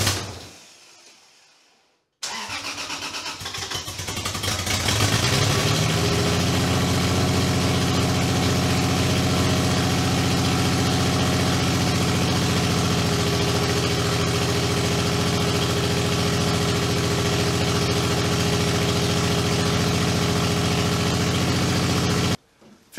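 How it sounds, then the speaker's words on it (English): A Toyota 2JZ engine idles steadily and close by after a short silent gap at the start, holding an even, smooth drone for nearly twenty seconds before cutting off abruptly. "it idles really well"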